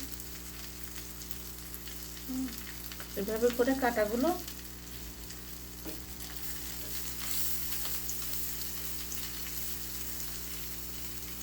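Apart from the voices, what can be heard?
frying dried fish (shutki) in a pan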